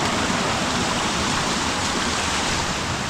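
Creek water draining out through a Bali jungle, a dense continuous rushing wash of flowing water, steady and fairly loud with no voices.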